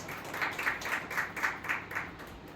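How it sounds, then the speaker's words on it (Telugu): A church congregation claps at a prayer service in a rhythmic run of about eight even claps, moderately faint and slightly distant. "చప్పట్లు కూడా దేవుని నామమున మహిమపరుద్దాం"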